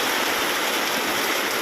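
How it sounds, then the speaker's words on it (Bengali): Heavy rain pours down in a dense, even roar of drops, loud and unbroken from start to finish, with no voices over it. "দেখো আমাদের এখানে প্রচণ্ড বৃষ্টি হচ্ছে"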